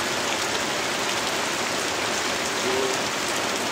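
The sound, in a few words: heavy rain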